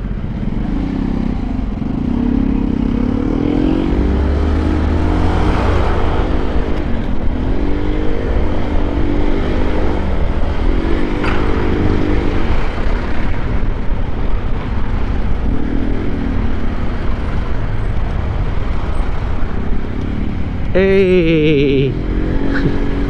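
Dense road traffic of cars and motorcycles rumbles continuously and loudly nearby, with engines revving and passing, and a brief horn-like tone near the end.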